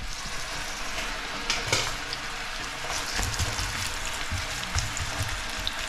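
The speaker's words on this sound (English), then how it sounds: "The noise in the background is a kettle boiling" Red onions sizzle and fry in warm oil in a pan for a vegan chickpea curry, a steady crackling hiss with soft stirring scrapes, while an electric kettle heating water rumbles faintly in the background.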